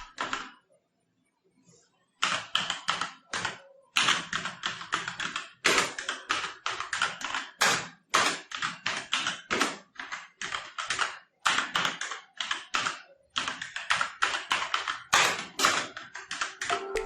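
Rapid typing on an Asus TUF Gaming K3 mechanical keyboard with red linear switches in close bursts, clacky keystrokes with brief pauses between runs, no voices.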